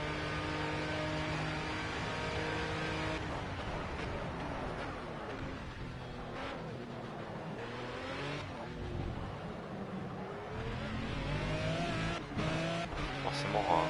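A race car in the Project CARS video game runs a flying lap, its engine droning steadily with repeated rising and falling pitch sweeps through gear changes and corners, a voice talking over it.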